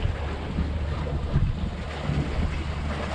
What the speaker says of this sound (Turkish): Rüzgar başladı, hava bozdu.